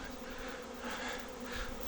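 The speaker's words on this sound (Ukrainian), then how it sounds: "а тут ось такий літ бджіл" A soft, steady buzzing of many honeybees flying around hives at an apiary fills the air, faint and continuous with gentle swells in intensity.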